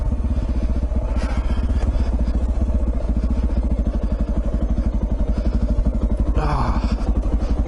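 A small motorcycle engine runs close by at a loud, rapid, pulsing beat that holds steady and then rises briefly near the end, with a short voice breaking in over it.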